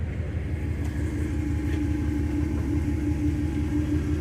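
A high-mileage half-ton pickup truck engine runs steadily through the gears, a close, continuous low rumble with a faint rising hum and no talk.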